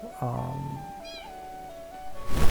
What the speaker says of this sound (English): let's breed up some cats